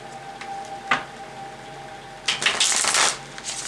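Tarot cards are shuffled in a few quick bursts, a brief riffle followed by a longer rapid flutter of cards, close and fairly crisp.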